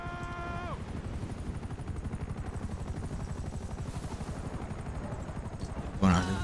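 A helicopter in the video game GTA Online thumps steadily in rapid, even rotor pulses throughout, loud and close, with a brief tone at the start and a sharp burst near the end.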